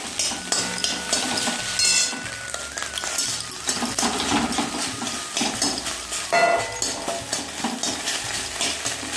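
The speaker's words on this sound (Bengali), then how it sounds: "গ্যাসের ঝিকগুলোর জন্য আমার কড়াইটা একদম নেচে নেচে উঠছে" A kadai rattles and jitters on worn gas burner grates while egg bhujia cooks, giving a busy metallic clatter over a constant frying sizzle, near and fairly loud, with no talking.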